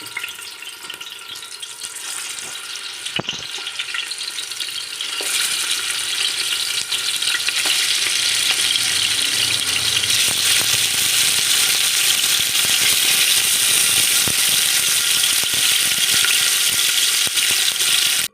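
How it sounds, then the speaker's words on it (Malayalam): Chicken pieces fry for mandi in sunflower oil, giving a steady, loud sizzle and crackle that grows denser after the first few seconds and holds throughout, with no voices. "ഇതിനകത്തിട്ട് നന്നായിട്ട് ഫ്രൈ ചെയ്തെടുക്കാം"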